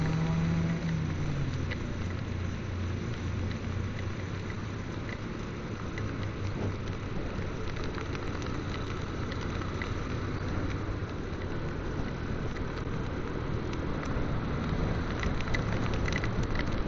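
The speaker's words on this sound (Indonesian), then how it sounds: "Sampai sini baru hujan." Heavy rain pours steadily during a motorbike ride in Central Java, a dense, continuous hiss that stays close and loud for the whole stretch, with no talking.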